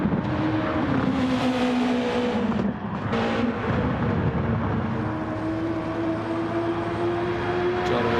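Steady engine drone from a yellow Honda NSX race car in a racing game at Le Mans, a continuous loud tone shifting slightly in pitch, with a brief dip in the middle.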